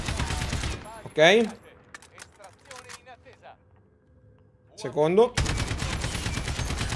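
Loud test bursts from an AK-style rifle in Call of Duty Warzone open and close the stretch, with two brief spoken words in between over quieter handling sounds.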